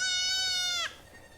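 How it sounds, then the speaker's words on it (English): A goat in a room lets out one loud, close bleat with a wavering pitch that breaks off sharply under a second in, followed by faint room noise. "Why is there just a room of goats?"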